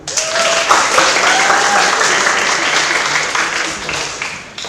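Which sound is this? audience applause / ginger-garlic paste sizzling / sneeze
audience applause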